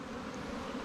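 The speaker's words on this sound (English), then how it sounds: "They're getting a little pissy, damn Ukrainian bees" Ukrainian honey bees buzz steadily at an open hive during splitting, a dense continuous drone close by with no voices over it.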